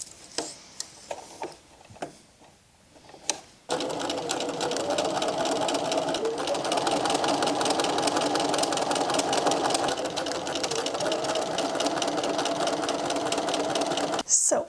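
A sewing machine runs steadily, stitching around a circular seam of a fabric Easter basket. Its whirring, ticking drone lasts about eleven seconds and follows a few soft clicks and handling taps.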